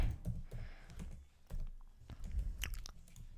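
Quick, light taps on a computer keyboard as a short phrase is typed, irregular clicks close by and fairly quiet, with no talking.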